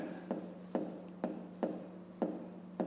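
A pen scratches letters on paper, faint and close, in short strokes that come back at a steady rhythm, about five times in a row.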